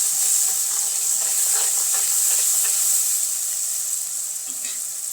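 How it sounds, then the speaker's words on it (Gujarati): Chopped tomatoes and salt sizzle in a hot frying pan while being stirred, a steady bright hiss of frying with occasional soft scraping, no voices. "ટમેટા નાખી દઈએ એટલે સ્વાદ પ્રમાણે નમક ઉમેરી દઈશું અને સરસ રીતે મિક્સ કરી લઈશું."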